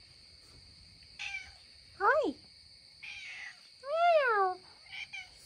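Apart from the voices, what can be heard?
cat meowing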